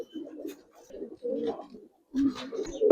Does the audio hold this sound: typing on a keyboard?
no